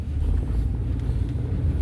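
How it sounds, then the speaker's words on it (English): Wind buffets the microphone in a continuous low rumble near Desert Hot Springs, California, with faint traffic-like noise underneath and no talking. "it's a little bit windy here"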